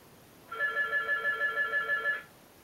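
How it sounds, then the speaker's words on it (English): A phone rings nearby in a quiet room during a makeup routine. It gives a steady electronic trill of rapid pulses, moderately loud, lasting nearly two seconds before it cuts off. "my phone was ringing"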